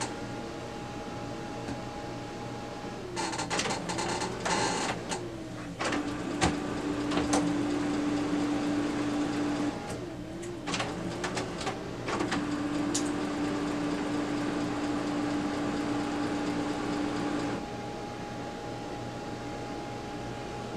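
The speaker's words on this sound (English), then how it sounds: "We're simply going to just close the unit and wait for it to initialize." A Brother MFC 9330 laser printer initializes after its unit is closed: a low steady hum with clunks and clicks, then whirring mechanical motor runs and a sustained tonal whine, close and without talking.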